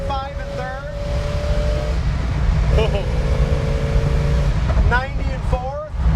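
A 1966 Ford Fairlane 500 cruising at 75 mph in third gear gives a steady, loud road and engine drone throughout, with someone talking over it.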